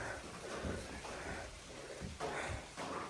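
Steady rain falls outside a large trail shelter in Vermont on the Appalachian Trail, a continuous broadband patter with a few heavier gusts, heard from under cover.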